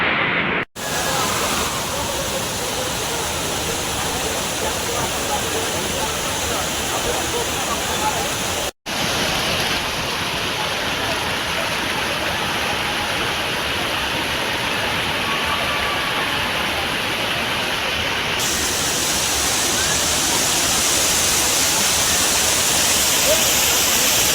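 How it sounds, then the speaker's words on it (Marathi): Steady broadband roar of a waterfall at Rajapur in Konkan, loud and continuous throughout, with a brief dropout near the start and another midway. "अभूतपूर्व दर्शन या धबधब्याचं होतं"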